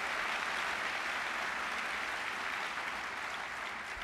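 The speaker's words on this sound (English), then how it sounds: "How about a round of applause?" Audience applause after a speech at an event on veterans treatment courts: a continuous, even wash of clapping from a sizable crowd, moderately loud and steady throughout, with no voices over it.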